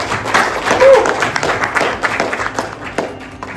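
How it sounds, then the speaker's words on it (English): Party crowd at a marathon runners' celebration at Jio World Plaza, Mumbai, applauding a speaker taking the stage, moderate clapping mixed with a murmur of voices and a brief whistle. "please welcome him with a huge round of applause"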